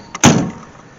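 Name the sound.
AMC Gremlin car door shutting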